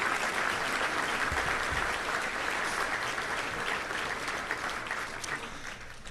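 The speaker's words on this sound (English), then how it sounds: "So let's give Simmons Bank and all of our sponsors a big round of applause." Sustained applause from a banquet audience at a touchdown club luncheon in a hotel ballroom, dense and steady clapping throughout that fades slightly near the end.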